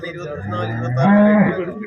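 A cow at a dairy farm in Kottarakkara gives a single loud, drawn-out moo that swells and then fades, heard close and clear with faint farm background.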